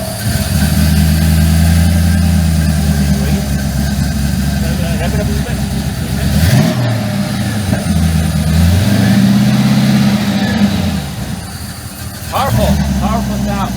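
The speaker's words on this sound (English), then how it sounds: "You gotta listen to the sound of this engine, especially when it starts." A 1929 Ford Tudor engine runs loudly up close, idling with a steady low rumble, dipping and surging briefly mid-way before settling back to a rough idle, with a voice briefly over it.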